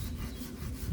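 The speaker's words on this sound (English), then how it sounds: "I would only use a handsaw" A handsaw cuts through wood in rhythmic rasping back-and-forth strokes, close and fairly clear, and no one speaks.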